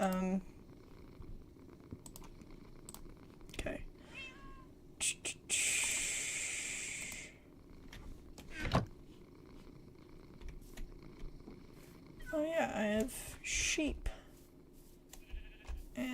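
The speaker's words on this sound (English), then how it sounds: "Man, you are a loud cat." A cat in a farming video game purrs loudly in a short rough burst, while bleating sheep and other game sounds come and go and a person talks throughout.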